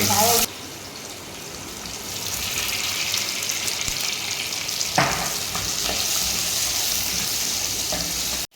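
Dried red chillies, green chillies and curry leaves frying in oil, a loud burst of crackle at the drop, then a steady sizzling hiss with a few stirring knocks, a voice briefly audible.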